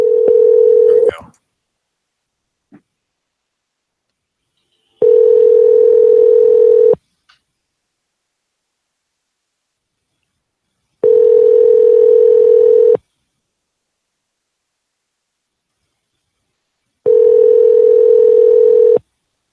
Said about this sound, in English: maybe I got to dial it fresh instead of just hitting